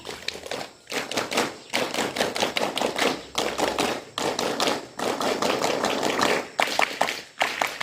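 A scout group claps together in a fast rhythmic Pramuka clapping pattern, repeated bursts of sharp claps separated by brief pauses, loud and close.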